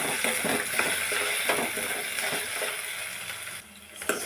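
Soaked chana dal stirred into ginger garlic paste in a hot pan, giving a continuous hiss of frying with repeated soft scrapes and knocks of the spoon, close and steady, with no talking.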